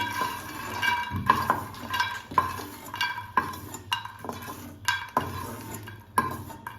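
Roasted makhana (fox nuts) being scooped out of a pan with a utensil, giving repeated close scraping and clinking strokes of metal on the pan at an irregular rhythm.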